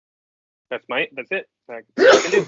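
A person gives a single loud, sharp sneeze at a tabletop role-playing game session, right after a short stretch of casual talk at the table.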